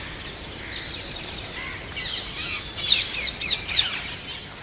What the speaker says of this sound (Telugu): రామచిలుకలు పావురాలు వచ్చి సందడి చేస్తున్నాయి.